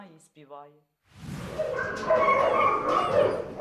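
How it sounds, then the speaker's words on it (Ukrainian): Belgian Malinois puppies in an enclosure at a service-dog kennel yelp and whimper in a lively overlapping chorus that grows louder and continues steadily, after a brief moment of voice and quiet at the start. "У вольєрі цуценята бельгійської вівчарки Малінуа."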